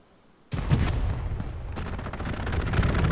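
Strafing run gunfire in a WWII video game battle on Omaha Beach, a sudden loud onset of sustained rapid automatic fire and booming impacts that continues densely to the end.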